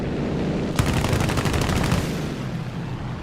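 Aircraft cannon and machine-gun fire in War Thunder air battles sounds as a loud rapid burst of shots, roughly a second long, over constant engine drone.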